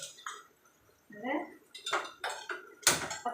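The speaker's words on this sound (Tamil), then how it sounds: "இப்போ சிக்கன் பொரிக்கிறதுக்கு இன்னும் கடாய் வைக்கலாம்." A metal kadai (wok) clanks down onto a kitchen stove in preparation for frying chicken, giving a few sharp, close metallic knocks and scrapes that grow louder toward the end.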